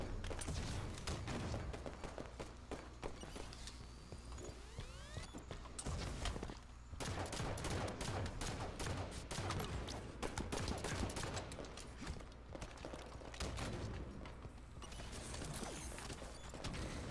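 Gunfire in the Halo 5 free-for-all multiplayer match: rapid bursts of weapon shots and impacts repeat closely over a constant game soundscape, fairly loud, with no voices.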